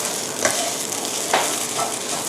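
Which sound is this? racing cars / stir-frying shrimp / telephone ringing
stir-frying shrimp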